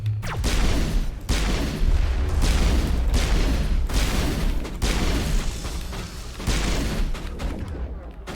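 Sniper rifle gunfire in the sci-fi shooter Mass Effect, fought indoors: a string of loud, booming shots roughly every second or two over a dense, steady battle din.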